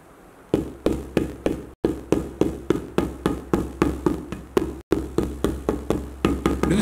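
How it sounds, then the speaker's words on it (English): A dagga hand drum with sand poured on its head, struck in a steady series of loud, close, dull thumps, about three per second with two brief pauses. "just observe when I hit this dagga."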